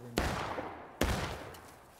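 Gunfire in the video game War of Rights, two loud, sharp musket shots about a second apart, each followed by a long rumbling decay, with faint background noise between.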